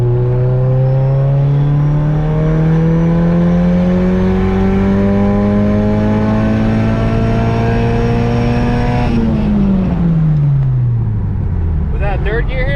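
A turbocharged coupe accelerates hard, its engine note climbing loud and continuous for about nine seconds through third gear before dropping sharply as the throttle lifts, heard close from inside the car.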